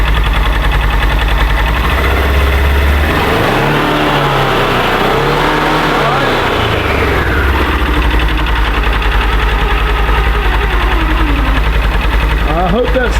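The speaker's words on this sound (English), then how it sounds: "It's in park. I'll rev it up just a little bit." Side-by-side UTV engine revved in park, a rough idle that swells into a couple of short rising and falling revs, then settles, close by, with people talking over it.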